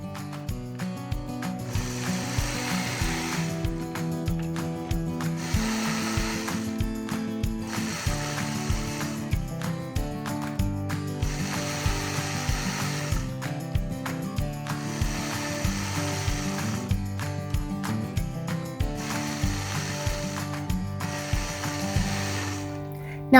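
Home sewing or quilting machine stitching a custom ruler-quilted sawtooth star quilt, a steady rapid mechanical clatter running continuously in repeated bursts with short pauses, fairly close, no talk.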